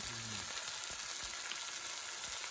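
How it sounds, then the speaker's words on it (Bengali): Marinated shoal fish frying in oil produces a continuous bright, hissing sizzle at close range, with a brief tone near the start and no talking. "সব ভেজে নেওয়া হচ্ছে এখন।"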